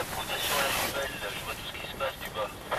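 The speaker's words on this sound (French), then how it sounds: "On vient d'arriver au camp 1 avec un grand vent." Strong wind gusting at Camp 1 of a Shishapangma expedition in Tibet, a broad roaring rush with microphone buffeting throughout, with voices talking underneath.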